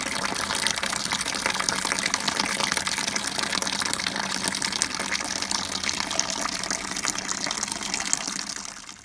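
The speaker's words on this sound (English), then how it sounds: "Here's the first runnings of the Tall Ships Tipple." Wort from the first runnings pours steadily into a vessel while brewing a dark homemade beer, a continuous close gushing splash of liquid that holds even throughout and fades at the end.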